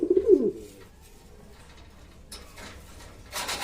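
Pigeons in a loft give a close, low cooing burst at the start, followed by quieter rustling and faint bird calls. A brief hiss comes near the end.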